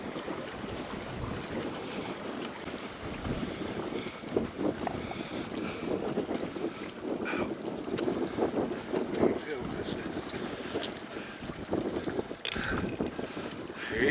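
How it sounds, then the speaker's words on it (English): Steady wind buffets a microphone outdoors on Lake Erie, a continuous rough rumble with gusts, while a voice speaks faintly underneath it throughout. "I don't know if you can hear me because of the stupid wind."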